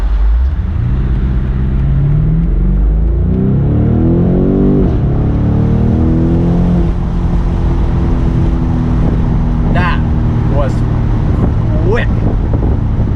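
A 2020 BMW M850i Convertible accelerates hard with the top down, its engine pitch climbing steadily through the gears under wind rush, loud and close, with brief speech late on.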